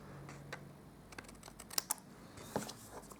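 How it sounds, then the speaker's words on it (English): Excess cardstock is trimmed from a handmade stamped card, producing a run of crisp, close snips and clicks in quick succession, with no talking. "what I'm going to do is I'm going to trim off the excess"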